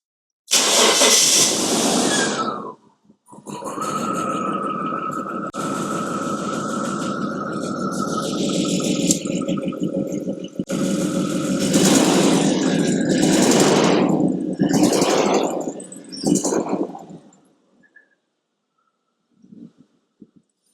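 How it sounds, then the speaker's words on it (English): A Jaguar XJS Celebration with the 4.0 AJ16 engine cranks briefly, stumbles, then catches and idles unevenly with an audible misfire, revving in a few rough bursts before shutting off and falling silent, recorded close up. "so let's fire up the engine."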